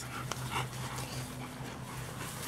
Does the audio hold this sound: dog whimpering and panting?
yes